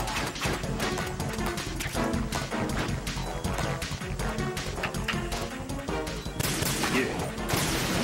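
Gunfire in Metal Gear Solid 2: Sons of Liberty, a dense stream of sharp shots and impacts crackling over loud game music and action noise, with a brief louder surge near the end.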